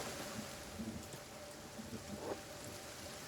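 Steady rain in the video game Kenshi hisses faintly and continuously, with a few slightly louder patters and no voices.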